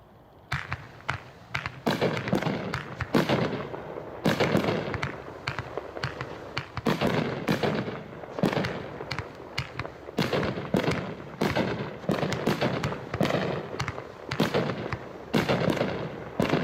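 A Candy Bang 25-shot, 500-gram consumer firework cake fires a rapid string of loud, booming shots with crackling bursts, keeping up a steady barrage of thumps for the whole stretch outdoors.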